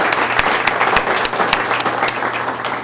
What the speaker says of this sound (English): Let's give you all a great round of applause